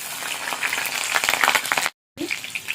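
Green chillies dropped into smoking-hot oil in a pan crackle and sizzle loudly and close, a dense spattering hiss that breaks off abruptly for a moment before resuming.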